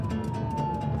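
A siren on an emergency vehicle in Kansas City wails as a steady, loud tone over street rumble, with no talking.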